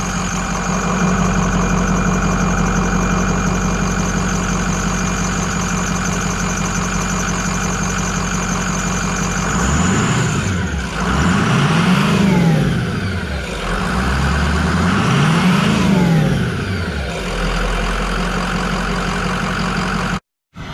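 A diesel truck with a 6.0 Powerstroke engine idles with a steady low rumble, then revs twice in rising and falling surges before settling back to idle; no voices.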